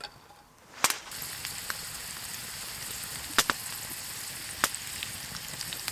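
Potatoes sizzling on a Firebox Freestyle 8 grill, a steady close crackling fry broken by a few sharp metallic clanks and taps as the pieces are placed and moved.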